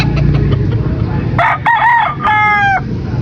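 Chickens cluck in the background before a rooster crows loudly and close, a drawn-out cock-a-doodle-doo followed by another crowing call.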